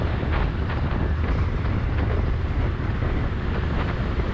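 Motorbike ridden in fifth gear, accelerating smoothly and steadily: a continuous loud engine drone and road rumble mixed with heavy wind buffeting on the microphone, holding level throughout with no pauses.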